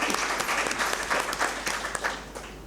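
A summit audience breaks into applause, a dense, loud wash of many hands clapping at once that stays steady and then tapers slightly toward the end.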